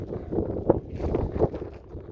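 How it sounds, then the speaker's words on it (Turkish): Gusty wind buffeting the microphone, a low rumbling roar with uneven surges throughout. "Biraz hava çok rüzgarlı arkadaşlar."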